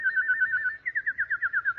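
A nightingale sings in a radio drama, a clear warbling whistle trilling in rapid rhythmic pulses, close and alone against a quiet background.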